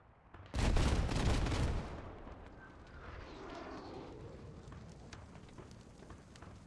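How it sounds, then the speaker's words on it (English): A Su-25 airstrike slams into a hab in a video game: one loud, close blast with a crackling burst that fades into a long, low rumbling tail. "That's been the airstrike used on this hab."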